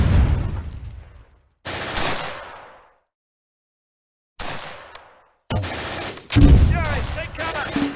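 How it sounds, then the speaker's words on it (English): Gunfire and artillery from the Close Combat strategy game, fought on the Rauray map: loud, close bursts of shots and blasts separated by short silent gaps, with no talk. "Under heavy fire."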